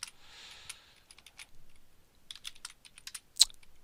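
Computer keyboard typing in short bursts of quick, light key clicks separated by brief pauses, close and fairly quiet, ending with one sharper keystroke like an enter press.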